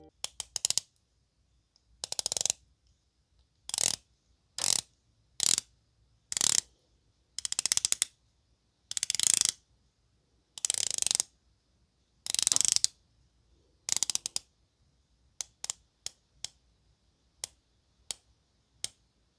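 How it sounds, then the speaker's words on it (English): Rotating watch bezel with 120 clicks turned in bursts, giving close, crisp, hollow ratchety clicking in quick runs separated by short pauses, with a final flurry of faster single clicks; no talking. "It has 120 clicks with pleasing tolerances, but it does have a more hollow, ratchety sound to it compared to other bezels I've used."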